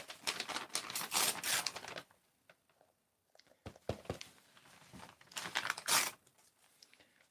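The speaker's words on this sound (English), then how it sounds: "I think I'm just going to tear the paper." Paper being torn by hand into strips for a papier-mâché box, heard as close, dry ripping bursts in two busy clusters separated by quieter scattered tears and rustles.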